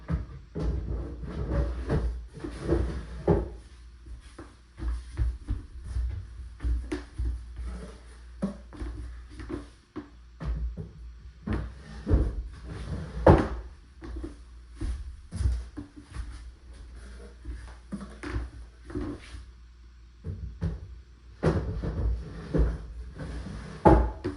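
Drawers of a rebuilt wooden dresser slide open and shut again and again, with wooden scrapes, rumbles and knocking thuds at an uneven pace.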